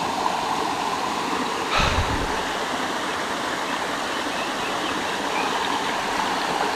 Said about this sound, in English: Oh, that water is so cold.